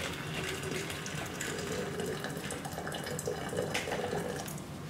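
Boiling water pours steadily into a plastic pitcher in a continuous, rushing stream, close by, with no talking.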